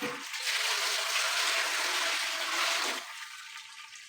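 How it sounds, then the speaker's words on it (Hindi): Marinade water is poured into a large pot for steam-roasting chicken, a loud, continuous gush for about three seconds, then dwindling to a lighter trickle. "उसके अंदर वही पहली मैरिनेशन वाला जो पानी मैंने आपको बताया था वो डाल देंगे।"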